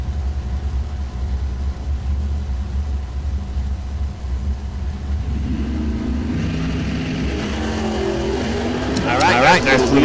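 A 1962 Chevrolet Nova drag car launches at a bracket drag race, its engine building from a low rumble to a rising roar that grows louder near the end, with an announcer talking over it.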